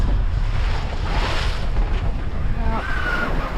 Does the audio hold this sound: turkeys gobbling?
no